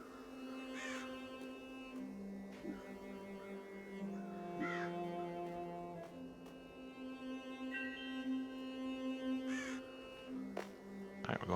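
Crows caw in the Child of Light video game, a few distant, spaced calls over a sustained tonal music backdrop.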